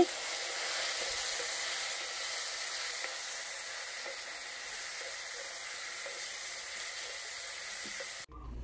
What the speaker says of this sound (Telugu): ఇప్పుడు దీంట్లో మనము కట్ చేసి పెట్టుకున్న టమోటాలు కూడా వేసుకొని బాగా వేపుకోవాలి